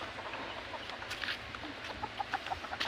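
A young gamecock stag rooster gives soft clucks, a few short close calls in the final second over quiet farmyard background.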